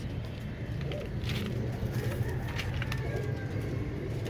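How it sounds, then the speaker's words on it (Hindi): Ring pigeons cooing in a group, a low soft murmur of overlapping coos running steadily throughout, with faint bird calls and distant traffic beneath. "रिंग वाले कबूतर ना, सब के सब सारे के सारे माशाल्लाह"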